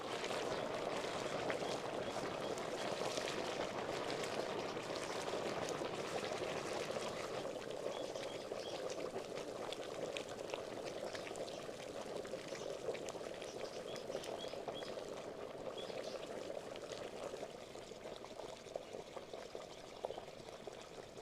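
Water poured onto quicklime in a clay pot, the slaking mix giving a steady, loud boiling fizz and bubbling hiss that carries on without a break and eases off slightly toward the end.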